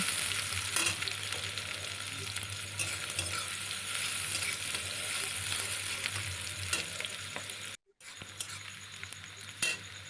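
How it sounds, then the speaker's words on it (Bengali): Chopped onions fry in hot oil for a soybean curry, a steady close sizzle with stirring and occasional utensil clinks, broken by a brief dropout near the end. "এখানে আমি পেঁয়াজ কুচি দিয়ে দিয়েছি এবার পেঁয়াজটা একটু লালচে করে ভেজে নেব"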